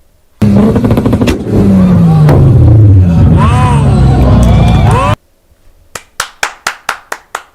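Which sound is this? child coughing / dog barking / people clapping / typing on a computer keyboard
people clapping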